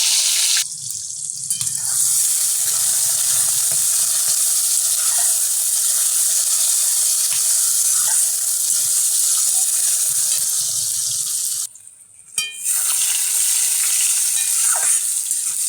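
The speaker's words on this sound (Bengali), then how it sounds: "টমেটোগুলো ভাজা ভাজা হয়ে গেছে।" Loud, steady hissing sizzle of chopped tomatoes frying in hot oil with dried chillies and bay leaves, close up, briefly cutting out near the end before the sizzle resumes.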